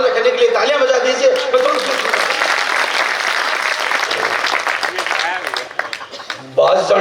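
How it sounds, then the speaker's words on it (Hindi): Audience applause and clapping fills a Hindi comedy poetry gathering, a dense sustained ovation with some chuckles that fades near the end before a voice resumes briefly. "बस एक बार मेरा मन रखने के लिए तालियां बजा दीजिए।"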